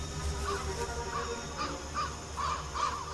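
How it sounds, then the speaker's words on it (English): Crows cawing in trees in the woods, a string of about eight harsh caws at uneven intervals, moderately distant over a soft outdoor hush, with no talk. "save the crows cawing in the trees above"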